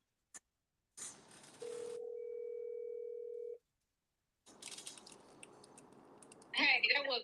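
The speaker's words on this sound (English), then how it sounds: "Media Room 360 just called into the show." A phone call connecting on a live talk show: a couple of clicks, a steady dial tone held for about two seconds, then line noise and a burst of garbled, rising electronic tones.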